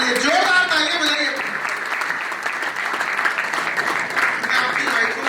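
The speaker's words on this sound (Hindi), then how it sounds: "बच्चे के लिए जोरदार तालियां बजाइए।" An audience at a talk applauds loudly for a child, a dense sustained clapping that fills the room for several seconds while someone speaks over it at the start.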